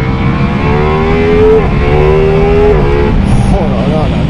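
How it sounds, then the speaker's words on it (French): A Ducati Multistrada V4S motorcycle in sport mode revs hard close by, its engine note rising and falling in sharp throttle blips while a rider talks over it. "Oh, c'est nerveux par contre là en sport. Oh là là là là. Tu effleures la poignée des gaz."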